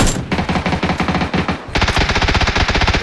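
Rapid automatic gunfire from the battle royale game PUBG, loud dense bursts of shots in fast rhythm, with a brief pause before another sustained volley.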